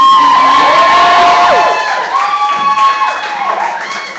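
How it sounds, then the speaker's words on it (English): A loud crowd at a live stand-up comedy show cheers and whoops, with high excited shouts rising and falling over scattered clapping. "Let's give a round of applause for all the women"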